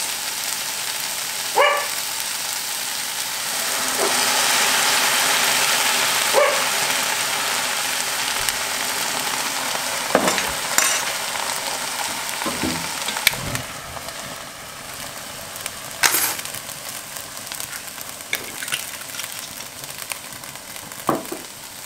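Cognac flambéed in a pan with a pork roast gives a steady, close sizzle and rushing hiss, broken by clinks and scrapes of utensils, with a dog barking now and then in the background.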